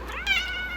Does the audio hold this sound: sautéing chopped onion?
no